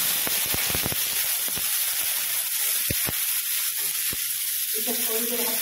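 Corn, capsicum and onion sizzling in oil or butter in a pan, giving a steady close hiss broken by a few sharp clicks and taps, with a faint voice starting near the end.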